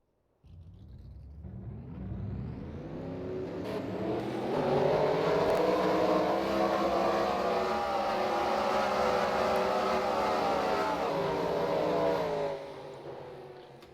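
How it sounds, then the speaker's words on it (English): Pickup trucks in a racing video game roll off to start a race at Nashville, engines revving up together into a loud, sustained rising roar that holds steady before cutting off abruptly near the end. "now let's get the trucks rolling off."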